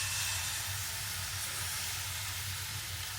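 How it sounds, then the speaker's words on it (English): Omelette eggs poured into a hot pan give a steady, close hiss that continues evenly without any talk. "get the pan like hot, like this pan you'll hear. It's hot. So when I pour that in, it won't stick."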